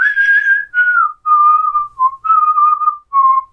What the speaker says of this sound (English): Oh, did you not hear that? I was whistling.